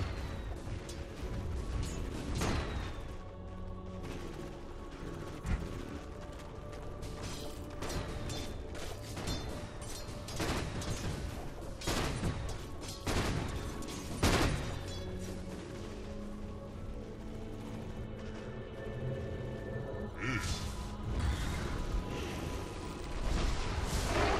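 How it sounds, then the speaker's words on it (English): A tower comes under attack in a Dota 2 match at DreamLeague Season 8: repeated booming impacts and sharp mechanical clanks strike in irregular bursts over a busy, moderately quiet game soundscape. "Dire's middle tower is under attack."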